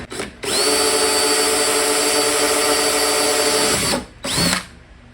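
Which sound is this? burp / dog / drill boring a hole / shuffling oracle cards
drill boring a hole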